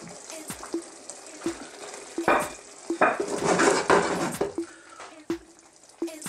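Cod and scallops cooking in a pan for a seafood stew, a gentle bubbling sizzle that swells midway, punctuated by regular sharp clicks and taps of utensils against the pan, with no voices.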